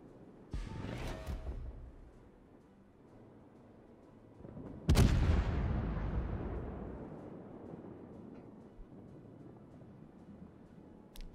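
Battleship guns firing in the naval combat game World of Warships: a sharp boom early on, then a much louder blast that rolls off into a long, fading rumble.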